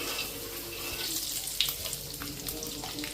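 Peanuts frying in hot oil for chivda produce a steady, bubbling hiss with faint crackles and a few small pops scattered through, close and moderately loud.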